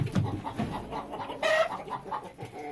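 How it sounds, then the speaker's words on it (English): Hens clucking softly nearby in a pen with their rooster, with a louder squawk partway through and scattered bird calls around. "Here is where all the hens are at the moment with their rooster."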